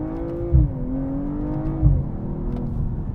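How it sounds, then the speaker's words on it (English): A six-cylinder BMW M240i xDrive coupe engine revs and accelerates, its smooth tone rising and falling steadily, heard up close with no talking. "you've got this lovely six-cylinder tone"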